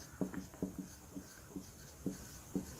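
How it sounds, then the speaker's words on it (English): Pen or pencil writing on paper during a lesson about human body tissues, a series of short scratchy strokes in quick clusters, close and fairly quiet with no talking. "Let me write here."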